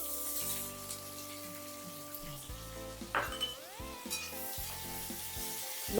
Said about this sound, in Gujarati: ડુંગળી છે બ્રાઉન થઈ જાય ત્યાં સુધી આપણે હલાવતા રહીશું